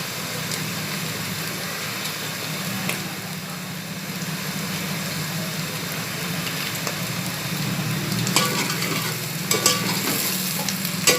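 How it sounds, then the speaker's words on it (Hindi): Bitter gourd peels and potatoes fry steadily in hot oil, a continuous close sizzle with occasional stirring scrapes that grow a little busier toward the end. "ये इसके अंदर फ्राई हो जाएंगे"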